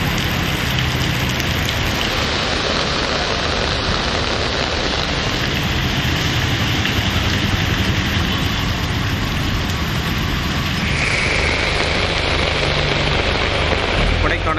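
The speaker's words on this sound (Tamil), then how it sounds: "நீலகிரி மாவட்டத்தில் கூடலூர் மற்றும் பந்தலூர் உள்ளிட்ட இடங்களில் கனமழை வெளுத்து வாங்கியது" Heavy rain pours in the Nilgiris district hills, a dense, constant roar of drops hitting surfaces, loud and unbroken throughout.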